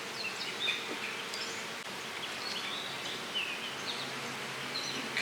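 Honey bees at an opened Flow Hive give a steady, dense buzz close by, with individual bees whining past now and then, and no one speaking.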